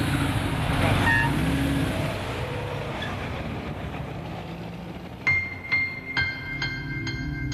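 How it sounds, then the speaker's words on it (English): Dense road traffic in the city of Lima rumbles and roars nearby, then several sharp car horns sound in quick succession toward the end. "It's like absolute crazy traffic around it."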